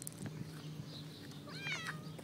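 A cat with a twisted, crippled body gives one drawn-out, wavering meow near the end, fairly close, over a low background hum with faint movement sounds.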